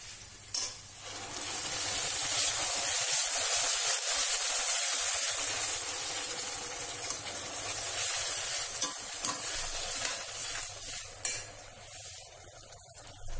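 Tomato, garlic and green chili puree added to onions frying in a pan for ghiya sabzi, giving a loud steady sizzle and hiss with occasional spoon stirring and clinks against the pan, close up and without talk.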